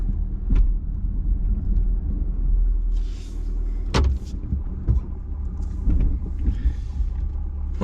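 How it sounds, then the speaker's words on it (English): A heavy snow plow truck back-drags snow in a residential driveway, giving a steady low engine rumble with scraping and several sharp knocks and clunks spread through it. "if you have a good heavy plow, back dragging it works very nice"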